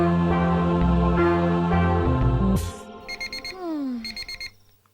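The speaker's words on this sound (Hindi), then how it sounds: "ए जी अलार्म बज रहा है, उठ जाइए।" Alarm clock ringing with rapid repeated electronic beeps, starting as music fades out, with a few sliding tones and soft thuds around it.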